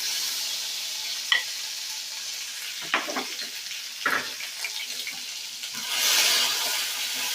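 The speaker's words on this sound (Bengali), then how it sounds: "আদা রসুন বাটাটাকে ভালো করে একটু কষিয়ে নেব" Ginger garlic paste frying in a pan for a pomfret curry, a steady close sizzle broken by several scraping stirs of a spoon and a brief hiss swell near the end.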